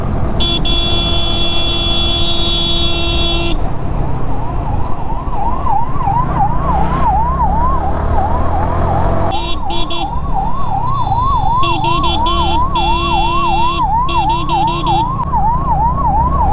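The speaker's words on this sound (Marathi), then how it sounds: "लोकांना एवढं मोठं सायरन ऐकू येत नसेल का?" An ambulance siren wails loudly in city traffic, its repeating rising-and-falling sweeps running continuously close by while vehicle engines and horns sound underneath.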